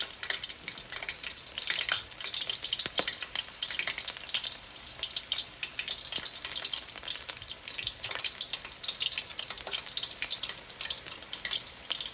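Egg rolls fry in a pan with a steady, dense sizzle and crackle that runs unbroken throughout, close and fairly loud, with no voices over it.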